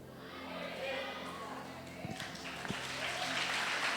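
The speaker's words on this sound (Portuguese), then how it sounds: "Isso, aplauda Jesus" A church congregation applauding, heard as a quiet wash of clapping that swells toward the end, with a voice speaking over it.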